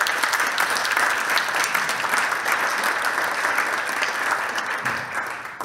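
Steady applause from a conference audience at a blockchain panel event, dense and even throughout, slightly thinning toward the end.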